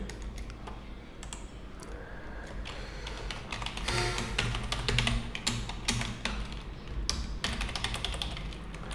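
Keys tapped on a computer keyboard while entering a phone number, a steady run of close, crisp clicks with some quicker bursts in the middle, over a low background hum.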